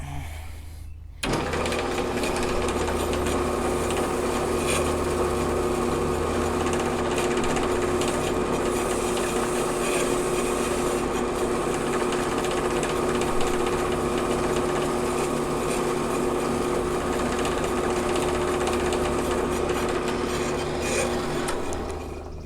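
A lathe turns an electric brake drum magnet surface, giving a steady continuous mechanical whir with a scraping, rasping texture that runs without a break after a short pause at the start.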